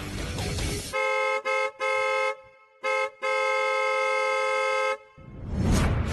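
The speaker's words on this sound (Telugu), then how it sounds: "ఎవడ్రా అది అలా హార్న్ కొడుతున్నాడు?" Car horn honking repeatedly outside a house in a Telugu TV serial scene, a series of loud sustained blasts, some short and some held for over a second, alone with no talk.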